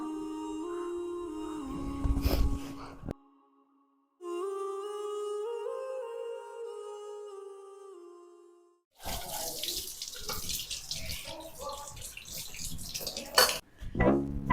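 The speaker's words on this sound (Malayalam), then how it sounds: "ഈ പാത്രം കഴുകൽ ഇനിയും കഴിഞ്ഞിട്ടില്ലേ" Dishes being washed at a running kitchen tap, water splashing with clinks of pots and cutlery, loud and close in two bursts separated by stretches of music.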